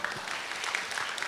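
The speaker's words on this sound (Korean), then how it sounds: "박수 한번 주시겠습니까?" A church congregation applauds briefly, a short, steady patter of many hands clapping at moderate volume.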